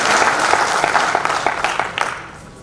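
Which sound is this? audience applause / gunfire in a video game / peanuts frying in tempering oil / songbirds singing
audience applause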